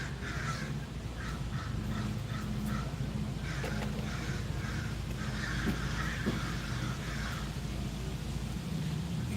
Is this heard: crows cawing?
yes